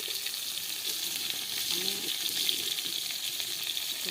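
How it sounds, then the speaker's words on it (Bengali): Bhetki fish paturi wrapped in bottle gourd leaves fries in a pan, giving a steady, close hiss of sizzling oil. A voice speaks briefly over it. "চারটা করে ভেজে নিই"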